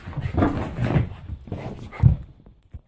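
A dog makes short whimpering, snuffling sounds in quick bursts at close range, with light scuffing and a brief knock at the end.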